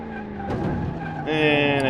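Ford GT engine revving and tires skidding in the racing game Car Mechanic Simulator, a loud, close roar that surges in pitch partway through, with someone talking excitedly over it.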